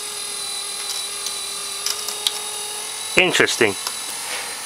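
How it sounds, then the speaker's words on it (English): Small electric motor of an automotive robotic seat adjuster, driving a shaft through a little gearbox, runs in reverse with a steady whirring whine for about three seconds before a voice briefly speaks over it. "I have to go the other way to make the motor move the opposite direction"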